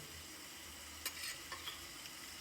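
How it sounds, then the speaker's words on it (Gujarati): Tomato chutney with garlic and chili fries in a pan, a faint, steady sizzle broken by a few soft scraping stir sounds. "લસણ પણ સારી રીતે ફ્રાય કરવું પડે"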